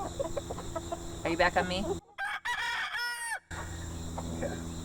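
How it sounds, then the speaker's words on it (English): Chickens on a home flock cluck and a rooster crows loudly while mating, a clear crow rising in the middle between busy clucking, with a person speaking briefly over the birds. "we had to take a little pause there because my chickens were mating a little bit"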